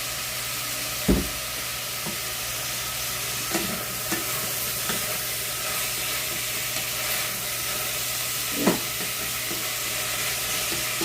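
Carrots and peppers sizzle steadily in a pan as a vegetable base for lentil soup, a constant soft frying hiss with a few brief clinks or stirs, close and continuous with no talking.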